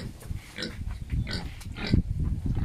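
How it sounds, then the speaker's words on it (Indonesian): A young pig on a farm gives several short oinks and grunts in quick succession, close and fairly loud. "Ini babi muda sudah berumur"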